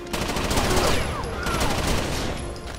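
Sustained automatic gunfire in Rainbow Six Vegas 2, bullets hammering a wall in a dense, continuous fusillade that stays loud and close for the whole stretch, with faint speech mixed in.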